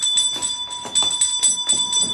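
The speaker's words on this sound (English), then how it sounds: "Mummy, I heard a bell." Repeated ringing of a bell with sustained high tones, strikes recurring several times in an irregular rhythm, fairly close.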